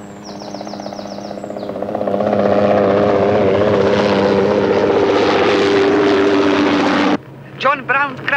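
A helicopter's rotor thump and engine whine grow louder over the first few seconds, hold steady and close, then cut off sharply, followed by brief chirping and a short voice.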